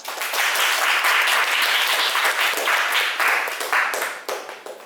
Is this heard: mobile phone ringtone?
no